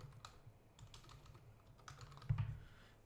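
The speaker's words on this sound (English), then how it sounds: "So you can always click the search and type hospital." A search word is typed on a computer keyboard as a quick run of light, close key clicks, with a slightly louder cluster of taps near the end and no talking.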